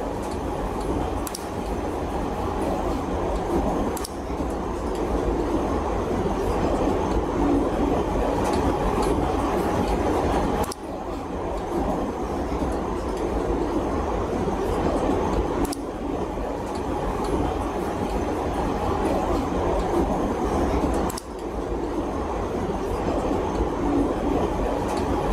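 Steady train ride from the video game Persona 5 Strikers, a continuous rolling rumble of railcars with periodic clickety-clack joints and faint wheel squeal, loud and unbroken with no talk.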